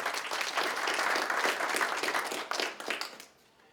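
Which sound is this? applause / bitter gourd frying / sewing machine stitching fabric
applause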